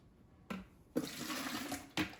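Homemade sweet tea poured into a pitcher, a steady splashing trickle of liquid running for about a second after a brief dip-and-clatter, then another short splash at the end.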